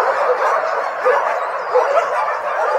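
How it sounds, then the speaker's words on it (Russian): A dog running loose at a flooded animal shelter, with steady high-pitched yips, whimpers and bow-wow barks, close and continuous with no talk. "Собака сбежала."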